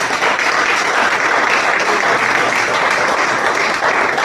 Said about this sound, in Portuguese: Palmas que exaltam o Rei Jesus.